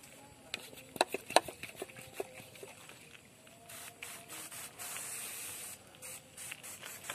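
Liquid ECO Farming fertilizer is sprayed onto honey star fruit plants, first a run of sharp pump clicks and short spurts, then a longer steady hissing spray, close and fairly loud.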